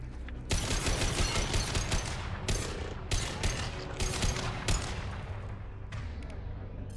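Gunfire in the sci-fi shooter Mass Effect 2: loud, continuous rattling bursts of weapon fire with heavy impacts, sustained throughout with only slight dips, no voices clearly heard.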